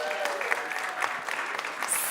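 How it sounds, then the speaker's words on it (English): Audience applause at a farmers' event during the Sundance Film Festival in Utah, a steady, close wash of many hands clapping for about two seconds with no talking over it. "Another round of applause, everyone."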